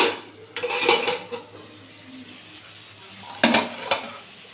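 Small sea fish cooking in a covered pan, the lid lifted with metal clanks and scraping stirs, then a gentle frying sizzle between two bursts of utensil noise.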